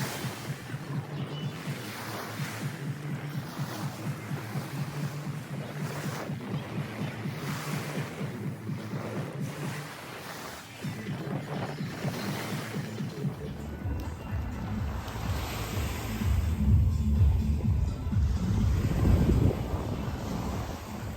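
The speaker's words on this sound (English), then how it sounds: "This is a very big beach" Ocean waves wash onto a public beach at JBR in Dubai, a steady surf roar with wind buffeting the microphone, growing louder and closer in the second half.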